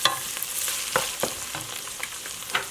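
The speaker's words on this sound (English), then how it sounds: "This meat is sufficiently browned that we can add our last third of meat." Ground beef browning in a pan for Bolognese sauce, a steady close sizzle broken by intermittent scraping and stirring clatters, with no voices.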